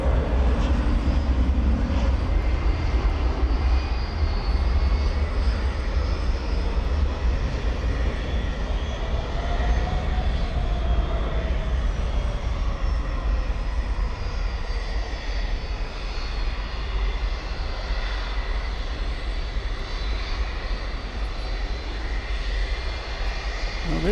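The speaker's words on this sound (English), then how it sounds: "There's British Airways, the A380" A British Airways Airbus A380 at DFW Airport at night gives a steady, heavy jet roar with a deep low-end rumble that holds unbroken for over twenty seconds.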